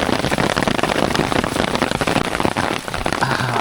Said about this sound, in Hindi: तो बारिश चालू हो गई है और हम छाते में हैं.